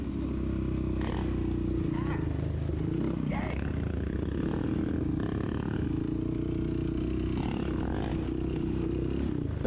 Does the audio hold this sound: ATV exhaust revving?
yes